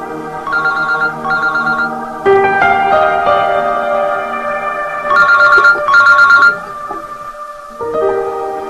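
Telephone ringing in a Hindi drama scene, a bright electronic ringtone repeating in melodic bursts with short pauses between, loud and close, with no voices over it.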